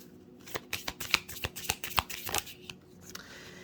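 Oracle cards being shuffled in quick riffling bursts, a rapid series of crisp flicks and snaps, close and fairly quiet, with no talking.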